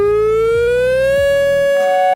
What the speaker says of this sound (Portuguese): Cara, essa sirene aqui é importante